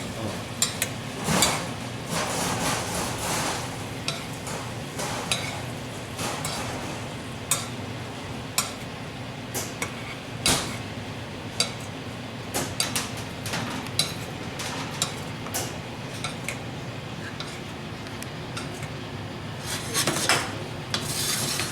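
Deep-sea shrimp basted in a pan on a restaurant kitchen stove, giving steady scraping and spooning clatter with soft sizzle, close and continuous, with occasional sharper clinks of a utensil against the pan.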